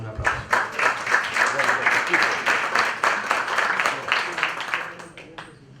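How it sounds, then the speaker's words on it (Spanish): An audience claps to welcome a speaker at a water-strategy panel session, a dense burst of applause that builds quickly, holds, then thins out and fades near the end. "Lo recibimos, por supuesto, con un aplauso."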